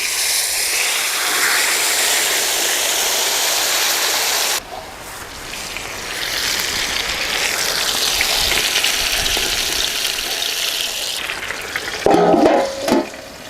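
Peri peri rabbit frying in hot oil on a tawa, village-style cooking outdoors: a steady, rain-like sizzle throughout, with a brief clatter near the end.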